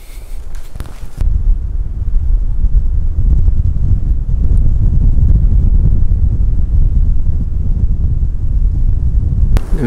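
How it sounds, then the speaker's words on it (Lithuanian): Cold, strong wind on an overcast day at an outdoor fishing spot buffets the microphone with a loud, continuous low roar, following a brief quieter moment at the start. "Visa šiandienos diena tokia neišaušus, apsiniaukus ir vėjuota, su žvarbiu vėjum."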